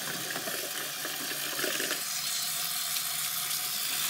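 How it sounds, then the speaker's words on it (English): Water runs from a bathroom sink tap over hands being washed, a steady, fairly loud rushing splash that continues without talk. "let's go wash our hands"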